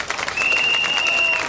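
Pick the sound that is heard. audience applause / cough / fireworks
audience applause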